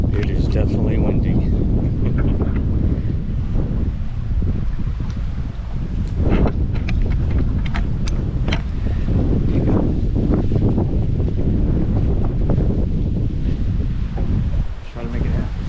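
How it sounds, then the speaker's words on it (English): Strong wind buffets the microphone outdoors on the water at a coastal creek nature preserve, a loud continuous rumble with gusty swells that runs through the whole stretch. "It is definitely windy."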